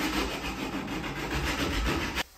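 A sanded wooden bed slat slides over timber with a continuous close rubbing scrape that stops abruptly near the end.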